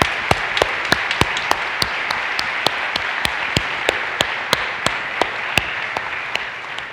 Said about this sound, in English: So can we all give a round of applause for Ivan and his great work